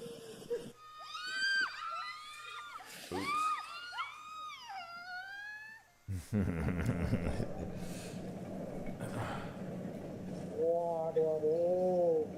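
A pet cat gives a series of wavering, high-pitched meows and wheezy cries, close and fairly loud at first, then a busier stretch of noise and voices before one more drawn-out yowl near the end.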